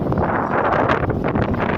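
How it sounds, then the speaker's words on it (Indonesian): Strong sea wind at the coast of a reclamation island, blowing as a steady, loud broadband roar with gusty rustle across the whole stretch and no voices. "kayak ngerasain angin laut lepas gitu"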